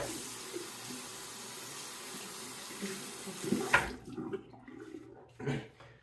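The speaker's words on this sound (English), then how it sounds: "And I'll wash my hand off here." A tap runs into a bathroom sink while a hand is rinsed under it during a shave, a steady splashing rush that cuts off near the end, leaving a few drips and faint handling sounds.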